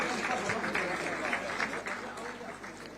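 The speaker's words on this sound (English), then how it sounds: "let's have a big round of applause for all the panelists on the dais" An audience at a coal gasification conference in Nagpur applauds the panelists on the dais, a fairly soft, steady patter of clapping heard at a distance with some background murmur.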